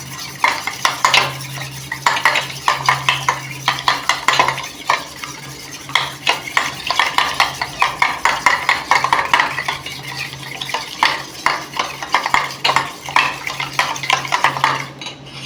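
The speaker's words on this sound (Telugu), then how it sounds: "ఇంకొక ఎగ్ ఉంది కదా, దీన్ని ఇందులో కొట్టుకొని పోసుకుందాము. దీన్ని అయితే మంచిగా గిలక్ కొట్టుకుందాము." An egg being beaten briskly in a bowl for an egg recipe, giving a steady, fast rhythmic clatter of utensil against the bowl that runs continuously and loudly up close.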